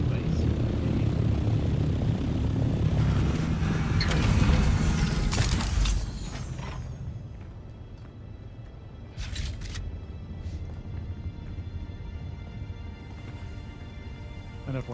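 An assault ornithopter's thrusters roar in a desert survival game, a loud steady engine drone that cuts back partway through, with lighter mechanical hum and brief clicks after.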